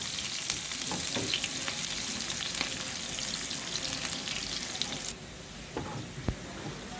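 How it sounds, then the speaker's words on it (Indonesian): Sliced shallots frying in hot cooking oil give off a steady, fairly quiet sizzle, with occasional stirring clicks and a brief drop in level near the end. "Kemudian panaskan minyak goreng, lalu goreng bawang merah yang tadi diiris."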